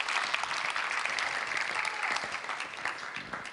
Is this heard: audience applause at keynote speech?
yes